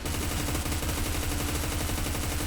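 A fully upgraded MK-16 MOD 2 rifle fires in the Roblox game Deadfront: fast, continuous automatic bursts, loud and close, with rapid evenly spaced shots running the whole time and no talk.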